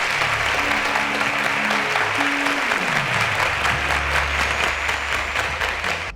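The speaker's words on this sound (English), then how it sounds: "A round of applause to Daniel, please." A studio audience at a televised quiz competition claps steadily and loudly throughout, with faint background tones underneath and the applause trailing off at the very end.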